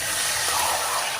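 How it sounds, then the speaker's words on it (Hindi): Water pours steadily into a cooking pot for rice, a loud continuous rushing splash filling the moment without pause. "अब इसमें हम पानी डालेंगे"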